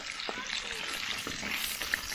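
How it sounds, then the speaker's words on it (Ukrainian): Potatoes frying in oil on a harrow-disc pan being stirred, a soft sizzle with scraping and shuffling sounds, brief and close, with a voice faintly present. "Зараз отакої її перемішаю, щоб вона вся покрилася олійкою."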